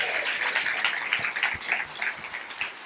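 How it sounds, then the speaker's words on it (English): A Q&A audience claps for a guest, a fairly close patter of hands that swells and eases over a few seconds. "So can you guys all give him a round of applause?"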